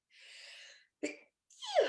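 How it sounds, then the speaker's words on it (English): A single close sneeze: a drawn-out breathy inhale, a sharp catch, then the explosive sneeze with a falling vocal tail. "I feel like I'm going to sneeze."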